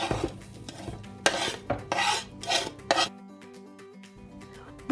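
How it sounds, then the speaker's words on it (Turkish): Metal utensil scraping and stirring chopped parsley into a mixture in a pan, several rough bursts with brief clinks, then quieter faint clatter; no talking. "Daha önce doğramış olduğumuz maydanozları ilave edip karıştırıyorum."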